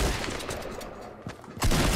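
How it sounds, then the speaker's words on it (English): Distant gunfire in the Fortnite Battle Royale video game, a muffled spatter of shots followed by a louder burst near the end. "He was shooting at me"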